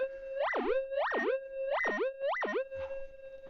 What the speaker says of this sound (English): You hear the threshold, but you also hear that pipping sound